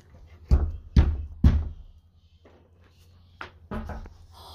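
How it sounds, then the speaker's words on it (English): Three sharp knocks on a door in quick succession, followed by a pause and a couple of fainter knocks, with no talking. "You heard that? He knocked."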